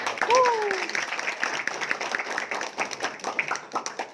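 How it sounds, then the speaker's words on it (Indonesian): Audience applause at a community meetup gathering, a dense crowd clapping with voices and a brief whistle-like cry near the start, moderately loud and continuing steadily. "Wahyu, tepuk tangan untuk Wahyu."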